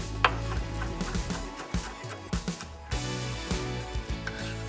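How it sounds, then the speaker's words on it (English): Fresh dill sprigs are finely chopped with a knife on a board: a fast run of close, sharp rhythmic taps, steady and alone with no voices. "And we'll just finely chop that."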